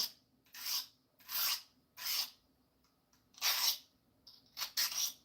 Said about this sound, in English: So this is a little work sharp field sharpener.